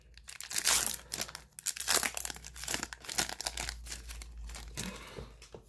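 A foil trading card pack torn open and crinkled, loud close crackling and rustling in continuous bursts for several seconds with no speech.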